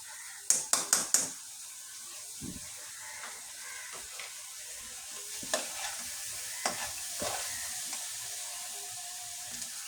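Rice stirred in a pan with ghee gives a soft steady sizzle, a quick burst of four sharp scraping clinks near the start, then occasional stirring scrapes.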